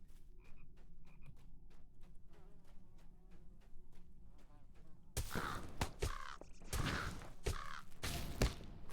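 A bird cawing in Lord of the Rings Online, with harsh repeated calls over a steady buzzing ambience, followed by louder croaking caws in the second half.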